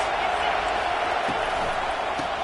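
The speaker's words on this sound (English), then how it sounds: "This crowd trying to make life miserable for this offense." A stadium crowd at a college football game against Nebraska roars in a dense, steady wash of noise, loud and continuous, with a commentator talking over it.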